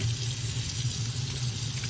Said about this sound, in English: now I'm gonna rinse out the bleach with cold water